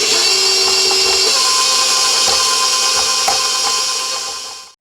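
An electric mixer beating almond biscotti dough made with almond extract and toasted almonds, a loud steady motor whir that holds level for several seconds and then winds down to a stop.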